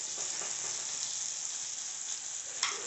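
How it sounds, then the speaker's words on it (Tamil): Spice powders sizzle and fry in hot oil for a country chicken curry, a loud, close, continuous hiss with a brief stir near the end. "இது எல்லாத்தையும் போட்டு வதக்கிக்கலாம்"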